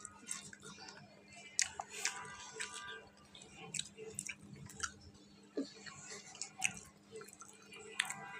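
Someone chews fried fish, with soft irregular crunchy, wet bites and clicks close to the mic over several seconds, mixed with faint background hum.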